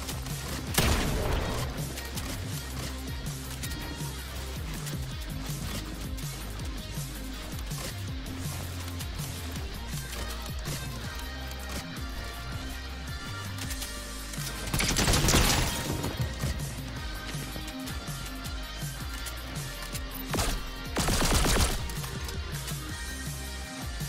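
Gunfire in a Fortnite match rattles through dense game sound, with a steady mix of shots and two louder bursts partway through and near the end.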